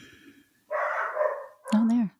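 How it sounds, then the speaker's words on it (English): A dog gives two loud, close barks or bark-like cries, the second one drawn out and tonal, with a short pause between them. "Oh, there's the dog."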